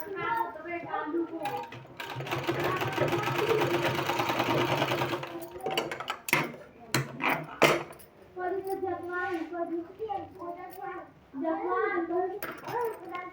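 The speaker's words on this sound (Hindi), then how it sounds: "इधर का साइड भी इसी तरह से सिलाई लगाते जाना है" A sewing machine stitches a sleeve design, running in a steady, loud whir for about three seconds before stopping. A voice talks afterward, with brief clicks and short bursts of the machine between the words.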